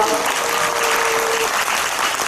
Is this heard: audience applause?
yes